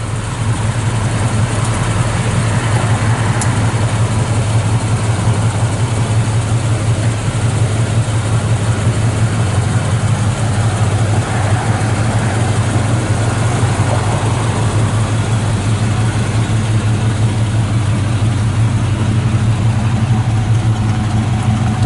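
A 1970 Chevrolet C10 shortbox with 350 turbo transmission idles through 2.5-inch dual exhaust, a steady, loud, deep low rumble holding unchanged throughout with no talking.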